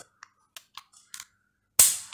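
An HS2000 9x19 mm pistol gives a few small mechanical clicks while being handled, then a single sharp snap as it is dry-fired, loud and close.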